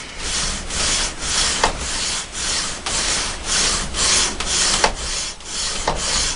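A hand file strokes back and forth across a knife blade to flatten it, light pressure giving rhythmic rasping scrapes, about nine even strokes, close and loud with no talk.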